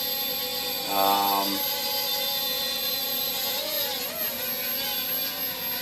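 A Hubsan X4 quadcopter drone hovers with a steady high-pitched motor whine that shifts slightly in pitch, close by, with a brief tonal beep early on.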